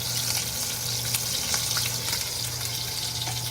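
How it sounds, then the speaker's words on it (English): Beef short ribs sear in a hot pan as the fat renders, giving a loud, continuous sizzle and crackle with scattered pops, up close and steady throughout. "We have our short ribs cooking away."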